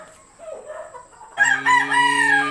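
A late-born gamecock stag crows loudly and close by, one full harmonic crow that starts partway in after a few soft clucks and background noise.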